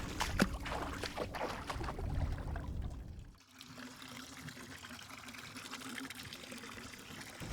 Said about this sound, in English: I simply drop it into the water like this.